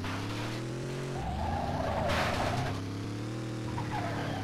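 A car in the Carmageddon video game skids under the handbrake, a loud engine drone breaking into a sustained hissing tire squeal that fades back to engine noise.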